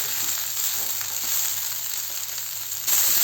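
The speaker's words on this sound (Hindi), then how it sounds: "अच्छे से सेक लेंगे, थोड़ा सा लाइट कलर चेंज होने तक।" Broccoli and potato pieces fry in a little oil for a spiced broccoli-potato-pea sabzi, giving a steady, close, continuous sizzle that swells slightly louder at the end, with no talking.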